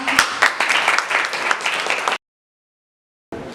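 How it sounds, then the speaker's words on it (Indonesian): Students in a vocational high school classroom clap together in a brisk burst of dense applause lasting about two seconds, then a gap of silence before clapping briefly resumes. "Oke, tepuk tangan."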